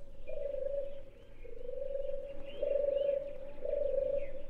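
Pigeons coo in a steady series of low, throaty calls, four drawn-out coos with short gaps, close and clear against a quiet background with no talk.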